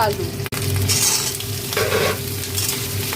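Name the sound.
onion and green chilli frying in oil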